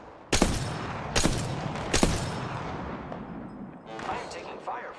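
Three sharp, loud gunshots crack out in Apex Legends at roughly even intervals, each trailing into a noisy rumble of game ambience, followed by softer scattered effects near the end.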